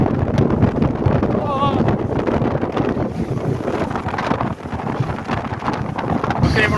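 A boat racing at extreme speed across Arctic waters off Iceland on a whale-watching trip, with heavy wind buffeting the microphone over a steady engine and water roar, loud and constant throughout.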